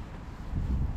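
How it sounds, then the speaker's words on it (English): Wind gusting across an open fishing lake during a carp session, a steady low rumble that swells louder in the second half, buffeting the microphone with no voices present. "It's very quiet, very windy."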